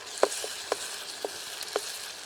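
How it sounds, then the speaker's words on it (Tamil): Steady sizzling of ginger garlic paste being tempered in leftover oil from frying fish, with a bright hiss throughout and a few distinct pops spaced roughly half a second apart. "மீன் வறுத்த எண்ணெயிலே அப்படியே தாளிக்கிறோம்."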